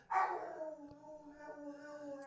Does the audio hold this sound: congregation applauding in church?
no